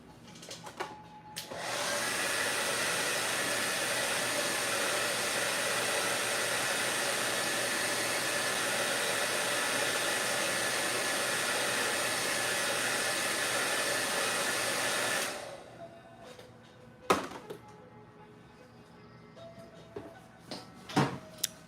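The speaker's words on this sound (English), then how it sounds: "we're gonna dry it now" A hair dryer blowing steadily on wet paint, loud and continuous for about fifteen seconds before switching off, followed by a few small knocks and handling sounds in a quiet room.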